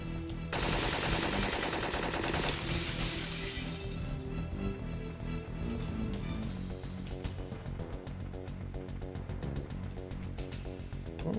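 Video game gunfire, a dense rapid burst of shots with a crashing blast at first, then continuing rhythmic firing over game music and effects, with no talk.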